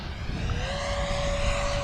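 Banana Hobby Aerofoam 105mm ducted fan RC jet, a 12s-powered Diamond, flying steadily overhead with a continuous whooshing fan whine that holds a steady tone, fairly distant, with wind rumble and no talk.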